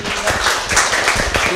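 Onlookers at a flight attendant interview practice session clap briefly for a candidate, a close, dense patter of hands in a small room.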